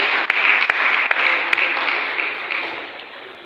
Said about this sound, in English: Please a round of applause for her as she comes on stage.